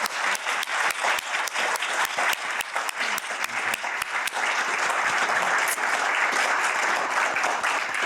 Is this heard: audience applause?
yes